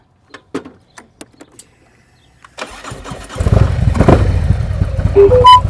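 A motorcycle engine catches after a few scattered clicks, then runs with a deep, close, rising rumble as the throttle is held preloaded, loud and alone without talk.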